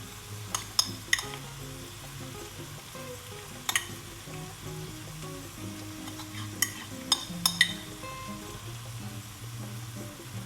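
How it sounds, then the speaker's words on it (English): Gravy added to aubergine pakora curry in a pan, giving a low steady sizzle and bubbling with occasional sharp clinks of a utensil against the pan. "the rest of the gravy I'm going to add now"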